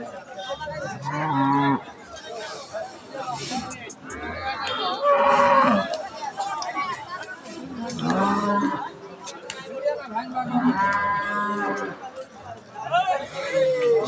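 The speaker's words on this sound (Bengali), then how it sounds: "বিগ সাইজ একটা গাভী, হলস্টাইন ফ্রিজিয়ান।" Big Holstein Friesian cow mooing repeatedly at a busy cattle market, loud and close, with several drawn-out calls over a steady hubbub of people talking nearby.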